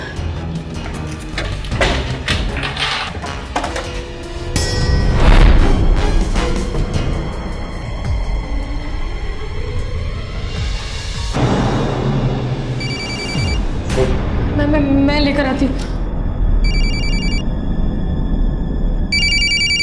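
A telephone rings in a tense domestic drama scene, bell-like tones repeating through dramatic background music and thumps, with someone speaking briefly.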